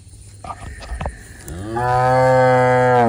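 A black cow lets out a loud, close moo that swells into a long, sustained low call after a few softer rustles and thumps.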